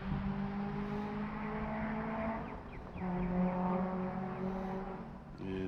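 A race car accelerates past on the front straight at Summit Point circuit, its engine droning steadily with a rising whine as it nears and passes, at moderate distance with no talk.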